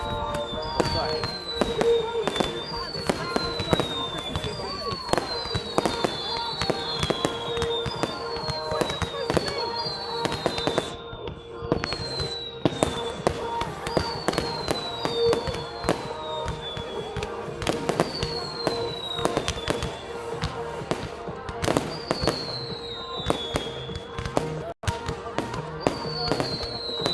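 Roman candle fireworks at a Bonfire Night display, a steady run of popping bursts and whistling rising shots, moderately loud over crowd chatter throughout.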